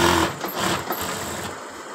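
A sewing machine stitches a kameez with a steady, close mechanical whirring run that holds for most of the stretch and eases slightly toward the end, with no talking.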